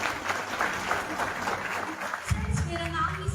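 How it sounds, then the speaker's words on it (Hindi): Audience at a business plan presentation in Prayagraj, Uttar Pradesh, breaks into applause, a soft crowd clatter with a louder burst of clapping near the end under a voice. "एक बार मैं चाहूंगी आप सभी के लिए एक शानदार तालियां होनी चाहिए"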